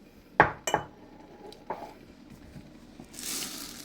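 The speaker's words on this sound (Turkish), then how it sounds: "Şimdi öncelikle işe bulgurumuzu ölçüp yıkamakla başlayalım." Bulgur measured out for a tomato-paste pilaf in a kitchen, with a few sharp clinks of dishes and utensils, then a softer knock and a dry rustling pour near the end.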